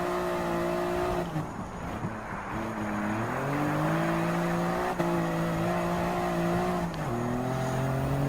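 A Toyota GR Yaris RZ High Performance '20 engine drones through corners in Gran Turismo 7, its pitch rising and falling with gear changes and throttle, steady and fairly loud with faint tire noise and no talking.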